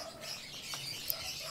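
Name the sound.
bird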